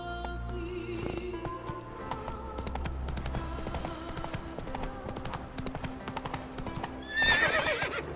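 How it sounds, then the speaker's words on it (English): A horse gallops in The Witcher 3 video game, its rapid rhythmic hoofbeats thudding steadily throughout, with a short neigh rising near the end. "Run, Roach."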